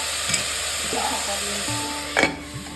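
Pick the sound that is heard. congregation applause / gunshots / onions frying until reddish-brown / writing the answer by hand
onions frying until reddish-brown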